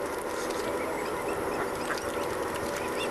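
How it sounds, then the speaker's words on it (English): Ducks and swans, including young swans, gather by a canal in Italy to be fed, giving scattered soft calls and quacks over a busy, noisy outdoor background. "They're feeding the ducks and the swans."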